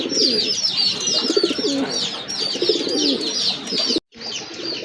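A pair of black-and-white Rajgolla pigeons coo steadily up close, their soft throaty calls overlapping with chirps from other birds, with a brief gap near the end.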